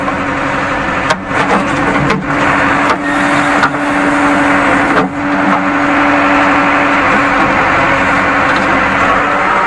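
A JCB 3DX backhoe loader's diesel engine running close and loud, a constant heavy rumble with a few brief dips as the throttle changes, no voices.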